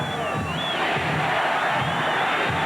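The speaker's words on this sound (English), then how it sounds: "And the crowd continues to be heard" The stadium crowd at an Air Force college football game roars in a sustained, dense wall of cheering and shouting, loud and steady, with a distant whistle-like tone riding above it and no clear talk.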